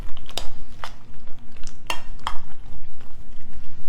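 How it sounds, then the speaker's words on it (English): Macaroni being stirred into a casserole mixture in a dish, with a few sharp spoon clinks and scrapes over a steady low kitchen hum, close by and with no talking. "So just mixing the macaroni in."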